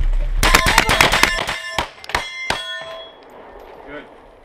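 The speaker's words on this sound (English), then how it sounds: "Freaking dropped my mag." A rifle magazine dropped on a hard floor during two-man room-clearing drills gives a loud burst of rapid metallic clangs and rattles, then a few scattered ringing knocks fading into quiet.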